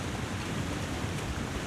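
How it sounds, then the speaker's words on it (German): A roaring waterfall in the survival game The Long Dark, a loud, unbroken rushing wash that fills the scene evenly without pauses or voices. "Wasserfall ist leider extremst laut."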